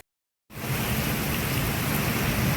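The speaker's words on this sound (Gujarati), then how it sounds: "જોઈ લો ધોધમાર વરસાદ" After a moment of silence, heavy first-of-season monsoon rain over farm fields rushes in as a loud, dense, unbroken roar, with no clear separate thunderclap.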